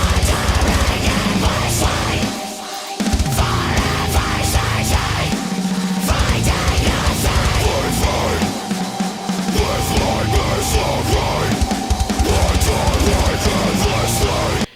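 A dense, loud metal track pounds along with heavy distorted guitars and driving drums, breaking briefly into short gaps before crashing back in.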